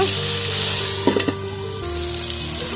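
Eggplant pieces fry in oil in a pan while being stirred: a steady, close sizzle with a few sharp clinks and scrapes from the utensil in the middle, and no speech.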